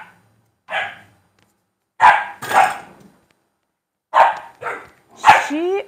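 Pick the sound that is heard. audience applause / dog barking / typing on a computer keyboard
dog barking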